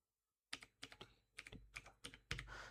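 Typing on a computer keyboard while entering a search, with bursts of close, crisp key clicks after a brief silence and no speech.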